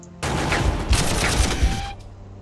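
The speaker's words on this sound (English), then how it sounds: "see what happens when I shoot at this with the autocannon" Autocannon fire in Warhammer 40K Armageddon, a loud burst of several heavy, closely spaced shots with impacts lasting about two seconds.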